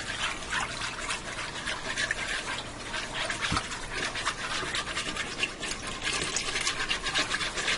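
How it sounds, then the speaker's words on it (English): Milk poured into a hot pan for chicken fried steak gravy, heard as a steady close trickle and splash with a light sizzling hiss running throughout, no talking. "I think I'm only going to put in about 3 cups of milk"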